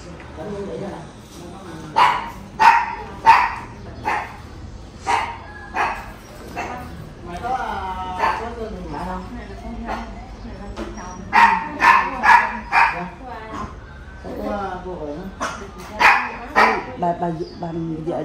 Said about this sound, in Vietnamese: Chó vậy.